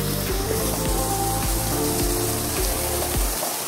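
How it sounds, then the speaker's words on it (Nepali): Waterfall along a village roadside on the way to Ghoda Gaun, a constant rushing wash of falling water with a low rumble beneath, steady and fairly loud with no talking. "कति राम्रो झरना"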